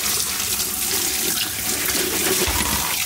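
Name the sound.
water running while washing taro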